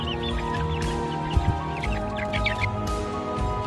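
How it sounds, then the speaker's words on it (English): Grown-up chickens in Minecraft cluck in short, scattered bursts over a steady background hum, fairly close and moderately loud, with no talking. "we've also got some grown-up chickens"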